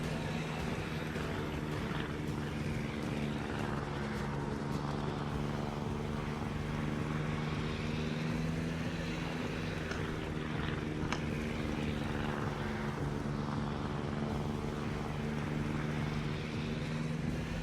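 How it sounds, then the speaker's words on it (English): Carrier aircraft taking off from the deck of the USS Essex in a video game, a steady droning propeller-engine roar with sustained harmonic tones holding loud and constant throughout, with no talking. "I love looking at the planes as they take off"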